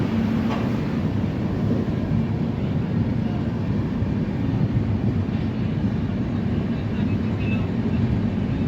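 A passenger train on the Pune to Solapur line rumbles and rattles steadily after pulling out of Kurduwadi station, heard from inside as a continuous low roar.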